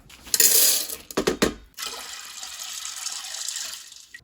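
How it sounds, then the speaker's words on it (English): White beans being rinsed under a running kitchen tap, with a few clattering knocks against the sink early on before a steady stream of water flows on alone. "I'm gonna rinse these real quick, pop them in the pressure cooker"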